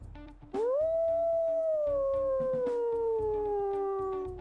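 A single long, loud wolf howl from the video game WolfQuest rises quickly, then holds and slowly falls in pitch over several seconds, with a faint rhythmic background pulse beneath it.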